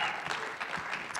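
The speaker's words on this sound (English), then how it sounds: "You can give him a round of applause." A small group claps at a team training session, brief and moderately quiet applause with no talking over it.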